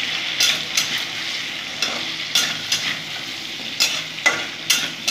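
Taro corms (kochu mukhi) sizzle in hot oil in a pan while a utensil stirs them, sending repeated scraping clinks over a constant close frying hiss, with no talking.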